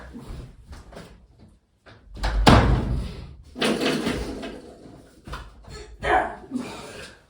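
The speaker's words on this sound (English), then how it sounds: "I'm closing my door." A door swings shut indoors with a solid thump, followed by rustling and handling noises and a dog in the room, with bursts of activity and quieter gaps across the stretch.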